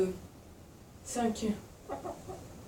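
A hen in a roomy chicken coop, settling onto her eggs, gives a few faint, soft clucks in two short bursts against quiet background.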